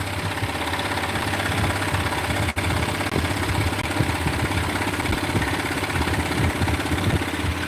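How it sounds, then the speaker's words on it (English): A scroll saw cuts cherry wood, a close, steady chattering buzz with a rapid rhythmic pulse running throughout, interrupted once by a brief sharp click. "this is going to be the last batch of these I'm cutting out on the scroll saw"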